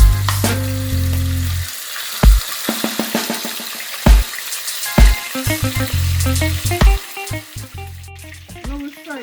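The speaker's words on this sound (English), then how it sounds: "Now we fry it about 3 minutes on each side." Snapper fish fries in a pot of hot oil for Jamaican brown stew fish, giving a steady close sizzle broken by intermittent clattering knocks and tones.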